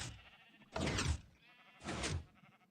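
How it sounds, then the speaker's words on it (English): Two distinct sheep bleats in the Minecraft video game, each a short wavering cry about a second apart, clear and fairly near against a quiet background. "before we feed these sheep"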